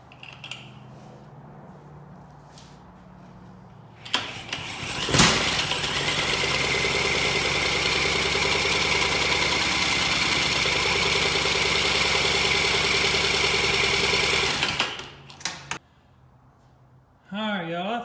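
A Polaris Trail Boss 250 two-stroke engine catches with a sharp crack, then idles steadily at a buzzing, mid-pitched drone for about ten seconds before cutting out; brief voices come before and after.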